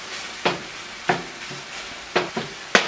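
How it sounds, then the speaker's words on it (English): Garlic and peppers sizzle in a pan for a tater tot breakfast hotdish, with a soft steady fry under several sharp scraping stirs of a utensil against the pan. "Go ahead and add the garlic. And we just want to cook this. Stir it in there until it's fragrant."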